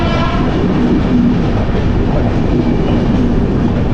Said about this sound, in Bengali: রাজধানী এক্সপ্রেস যাচ্ছে 12313 রাজধানী এক্সপ্রেস